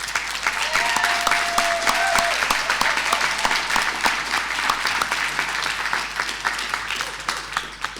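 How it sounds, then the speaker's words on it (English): A large audience at a public event on Auckland's future breaks into immediate, sustained applause for Councillor Penny Hulse, a dense, steady roar of clapping that holds at full strength throughout. "it was just immediate applause"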